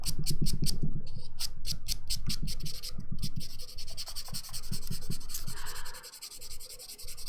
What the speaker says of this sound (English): I like to go in and just do the light buffing to get out any last minute little lumps and bumps.